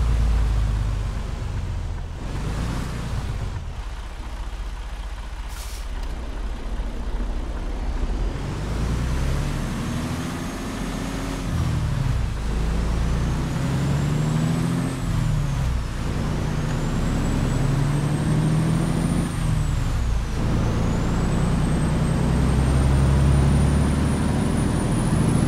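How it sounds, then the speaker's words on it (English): A semi truck engine in American Truck Simulator, heard with windows down, rumbles low and steady, rising and falling through gear shifts over road noise, with a short hiss of air brakes near the start. "I'm going to roll my windows down so we can listen to this amazing engine"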